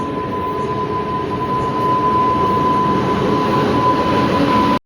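A WDG-4G diesel locomotive moving near a goods train gives a loud, steady rumble with a thin sustained whine, continuous for several seconds before cutting off.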